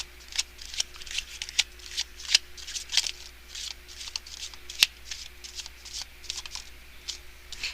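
A deck of tarot cards is shuffled by hand in a series of crisp, papery riffles and flicks, close and clear, with irregular bursts and brief pauses between them.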